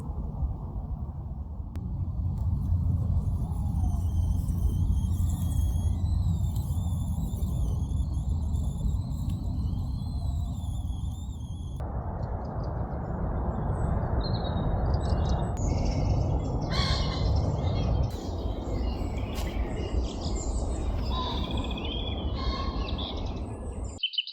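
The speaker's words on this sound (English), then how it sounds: "The birds are just giving the best festival ever." Birds, including crows, call and chirp around a winter campsite in the morning, scattered tweets and calls rising over a constant low rumble of wind or fire, fairly far off and intermittent.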